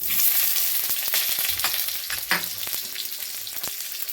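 Potatoes go into hot oil with dried red chilli and cinnamon for a vegetarian cauliflower roast, crackling and sizzling loudly up close, with occasional sharper pops and stirring scrapes and no talk.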